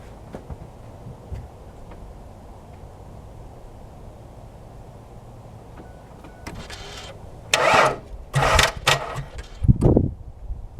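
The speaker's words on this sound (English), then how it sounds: "I will let this run and go into the vehicle and try to start." After a stretch of low, steady hum, a van engine with a dead battery cranks in several loud, short bursts on a jump starter, with no one talking.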